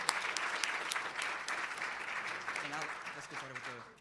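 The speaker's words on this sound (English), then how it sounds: "can you give a round of applause to yourself" Audience applause fills a school conference hall, a steady dense clapping heard close and loud throughout, with a voice speaking over it near the end.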